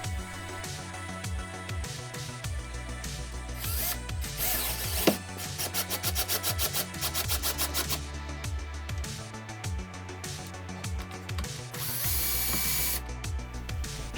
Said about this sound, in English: Here I'm drilling holes for dowels that will hold the outer frame.